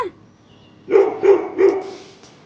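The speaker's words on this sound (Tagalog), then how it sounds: "Ay, itong aso na to." A dog barks three times in quick succession, close and fairly loud, after a brief faint whine at the start.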